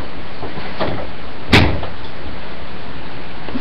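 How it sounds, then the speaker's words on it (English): A door in a house is pushed shut with a single sharp thud midway through, alone against a quiet room-tone background. "I'm going to shut the door now."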